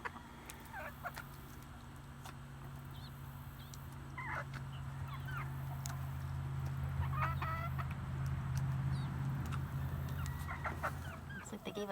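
Backyard chickens clucking softly at a distance in a fall garden, scattered short calls over a steady low outdoor hum, with faint other animal sounds mixed in.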